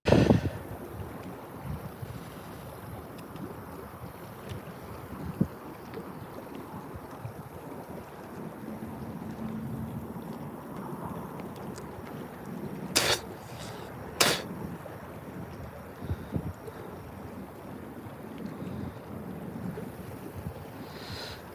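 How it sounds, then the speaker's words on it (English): Wind blows steadily across an outdoor fishing spot near water, a continuous broadband rush with occasional gusts and a couple of brief sharp crackles of microphone buffeting, with no talking. "This wind."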